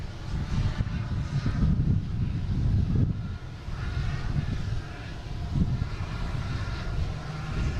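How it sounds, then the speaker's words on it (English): A Lufthansa Boeing 747-8 bound for Frankfurt takes off from runway 4 right at Boston Logan, its engines producing a deep, continuous, rumbling roar heard from a distance, with some wind noise on the microphone. "So 747-800, flight 423. They're heading back to Frankfurt. That'll definitely be a 4 right takeoff."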